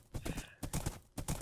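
Horse hooves clip-clop in the Minecraft video game, three quick clusters of hollow clopping steps in an even trotting rhythm, close and fairly loud.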